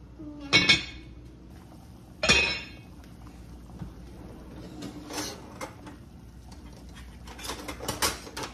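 Metal lid set back onto a pot of simmering milkfish soup: two loud, ringing clanks a couple of seconds apart, then softer clinks and rattles of cookware close by.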